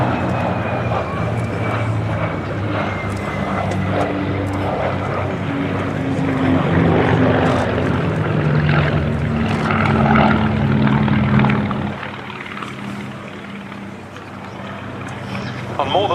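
A Percival Pembroke propeller aircraft flies past at the RAF100 Battle of Britain Airshow at Duxford, its steady, droning engines rising and falling in pitch over a wide outdoor space, heard beneath continuous commentator talk.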